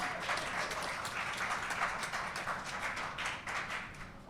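Applause from a modest audience at a book launch party, fairly faint and somewhat distant, a continuous patter of individual claps that thins slightly toward the end.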